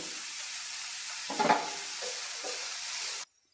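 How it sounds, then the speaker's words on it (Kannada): Chopped onion and finely cut beans frying in a pan with a pinch of salt, a steady close sizzle with brief stirring scrapes, alone without talk. "ಈಗ ಫ್ರೈ ಆಗ್ತಿದೆ"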